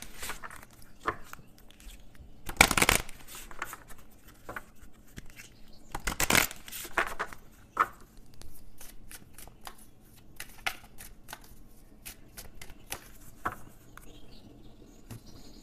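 Oracle cards being shuffled by hand up close, with soft rustles and riffles punctuated by a couple of sharper snapping bursts, all fairly quiet and irregular over several seconds.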